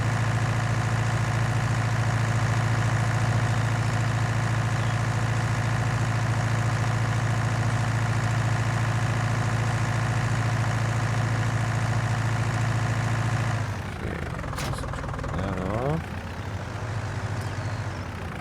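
A small John Deere tractor engine idles in Farming Simulator 19 with a loud, steady low drone. Near the end the tone shifts briefly, with a few faint clicks and a rising whine.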